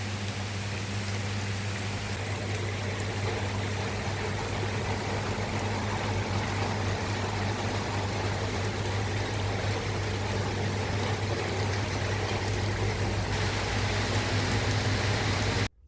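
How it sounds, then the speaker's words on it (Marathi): Steady rain pouring outside a house, a dense even wash of falling water that stays loud and unbroken throughout, with a low constant hum underneath and no voices. "आमच्याकडे खूप मस्त पाऊस लागलेला आहे"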